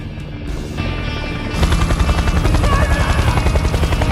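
A helicopter in an action film thunders in, its rotor chop swelling into a loud, steady rapid pulse that dominates the scene without speech.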